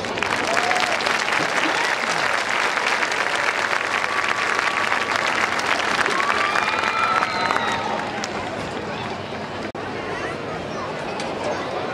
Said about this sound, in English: help us honor all of them with a round of applause